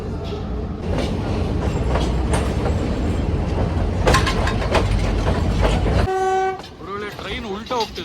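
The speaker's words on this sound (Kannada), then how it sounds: "ನೋಡಿ ಇದು ಟ್ರೈನು ಎಷ್ಟು ಚೆನ್ನಾಗಿದೆ ನೋಡಿ" A Sri Lankan passenger train rumbles along at close range with steady clattering, then a long loud horn blast sounds near the end as the rolling noise drops away.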